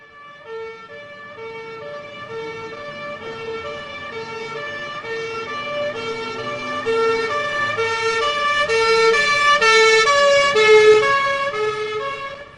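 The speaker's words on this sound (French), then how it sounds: "entendu, du trottoir, il passe de l'aigu au grave" A police siren wails in a steady, tonal sweep heard from a sidewalk as the vehicle passes a pedestrian, building louder toward its closest point and then easing off.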